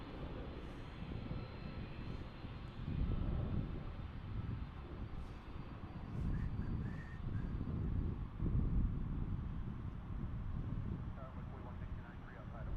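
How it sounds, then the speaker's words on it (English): A Boeing 787 Dreamliner departing DFW airport for Honolulu, its engines giving a broad, steady low roar at a distance, mixed with wind buffeting the microphone, while someone talks over it. "There is a Dreamliner departure off to Honolulu."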